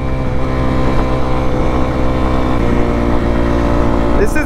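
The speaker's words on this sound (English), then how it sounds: "This is by far the fastest 250 dirt bike I've ever rode." A Kawasaki KX250F 250 dirt bike engine roars steadily at high revs, loud and close, holding a constant buzzing drone for the whole stretch with no pauses.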